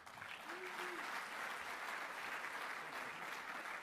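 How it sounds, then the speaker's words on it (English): Sustained applause from a crowd at an awards gala, loud and steady throughout with no talking over it. "One more round of applause for them, please."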